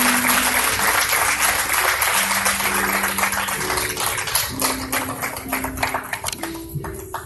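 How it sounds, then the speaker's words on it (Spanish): Church congregation applauding during a Spanish-language sermon, a dense wash of clapping that stays loud and steady for several seconds, then thins into scattered claps by the end, with a sustained organ-like tone underneath. "Dale un aplauso al Señor."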